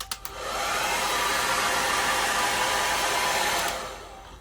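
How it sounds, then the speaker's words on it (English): A hair dryer blows with a steady, loud whoosh for several seconds after a few clicks, then winds down at the end. "You've got a very nice hair dryer."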